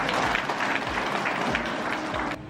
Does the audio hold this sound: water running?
no